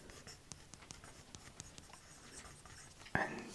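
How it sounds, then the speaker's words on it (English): An Apple Pencil taps and scratches on a tablet in small, soft, close strokes while tracing from a gaming magazine, under hushed whispering. "You'll also hear Apple Pencil sounds"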